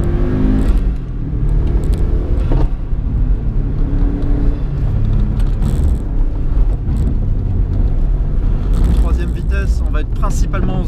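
A car climbs a narrow, twisty road in second gear, its engine rumbling loud and steady throughout with shifting revs, while someone talks over it.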